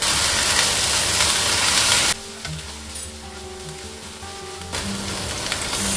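Ginger garlic and tomato paste hitting hot oil, with a loud, dense sizzle that drops to a quieter bubbling hiss and small clinks for a couple of seconds, then surges back up.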